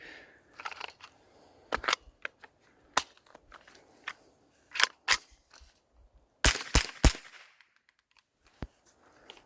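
A Bear Creek Arsenal .22 LR rifle upper on a PSA lower firing, sharp close cracks spaced irregularly with a few quick bursts, plus mechanical clicks and handling noise between shots.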